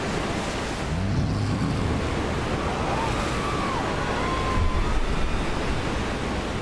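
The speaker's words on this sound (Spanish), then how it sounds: "Vimos como el agua giraba y giraba sin cesar, haciendo un ruido atronador al romper en las rocas." Swirling sea water crashes against rocks in a continuous, loud, hissing roar of surf that swells slightly toward the end.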